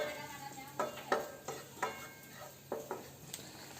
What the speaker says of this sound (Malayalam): ഈ നെയ്യിൽ നമുക്കൊന്ന് റോസ്റ്റ് ചെയ്തെടുക്കണം ഈ തേങ്ങ.